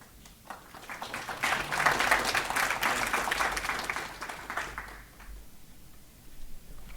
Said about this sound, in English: I don't know if that applause was for my introduction or for Arif